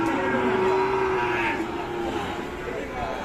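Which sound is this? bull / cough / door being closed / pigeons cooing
bull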